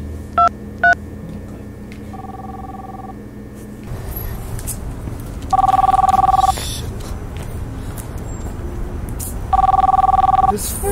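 A telephone gives two quick dialing beeps, then rings in two long electronic bursts several seconds apart, loud and near over a low background hum.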